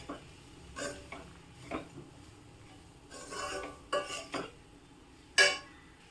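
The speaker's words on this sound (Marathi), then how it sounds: "ह्याला छान मिक्स करून घेणार आहे" A spoon scrapes and clinks against a pan while capsicum vegetable curry is stirred, several short separate strokes over a quiet background.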